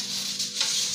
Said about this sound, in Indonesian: Ini tempenya belum selesai goreng.